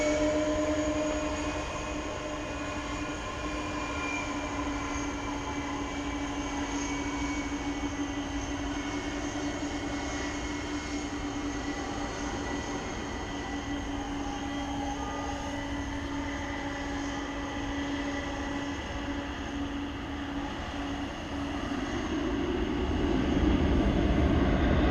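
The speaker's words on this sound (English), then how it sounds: "will have the opportunity to bring you this takeoff of a tri-jet" A tri-jet MD-11 airliner takes off at night from DFW Airport, a steady distant jet roar with droning tonal hum that swells louder toward the end.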